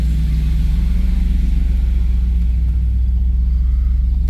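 A 1989 Pontiac Trans Am GTA engine gives a loud, close, deep pulsing rumble, steady and throaty throughout with no talking, as the car pulls through the gears.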